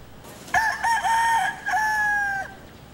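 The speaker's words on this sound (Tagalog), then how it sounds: "Ang pagtilawak ng manok nito" A rooster crows at an evacuation center in Las Piñas: one full, close, loud cock-a-doodle-doo lasting about two seconds, rising then holding steady, with no other noise around it.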